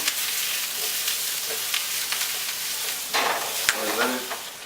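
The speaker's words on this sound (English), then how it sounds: "Now the saute is just going to be a quick one. It'll take about 3 minutes." Garlic and parsley sautéing in a pan, a soft steady sizzle with brief stirring scrapes and clinks, close and fairly quiet, with no one talking.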